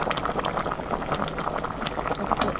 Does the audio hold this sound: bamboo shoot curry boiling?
yes